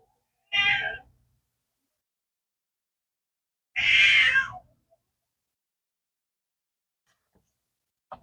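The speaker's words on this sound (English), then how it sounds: "as you can hear my cat complaining in the background" A cat meows twice, two drawn-out, whiny cries separated by a few seconds of near silence, fairly close and clear.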